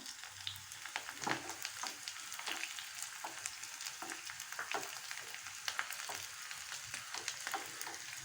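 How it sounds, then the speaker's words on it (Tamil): Finely chopped garlic sautéing in a pan for a tomato side dish, a soft continuous sizzle broken by scattered crackles and stirring scrapes, close and quiet with no speech. "அதை எடுத்து கட் பண்ணி வச்சுருக்க பொடுசாக அதையும் நம்ம போட்டு வதக்கிக்கலாம்."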